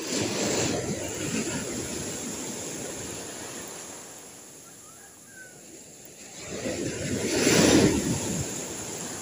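Gentle waves break on a shore under strong wind, the surf swelling at the start, fading to a lull in the middle, then surging into a louder wash near the end.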